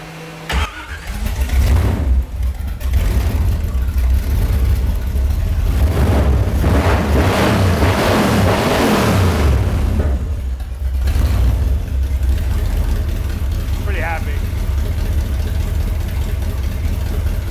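A 375 horsepower car engine cranks and catches, then roars through several loud revs before settling into a rough, throbbing idle, very close and dominant throughout.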